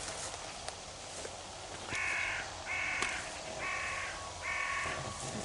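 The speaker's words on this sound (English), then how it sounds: "The crows are busy." Crows caw outdoors in four drawn-out bursts, fairly near, with a faint steady background and no talking.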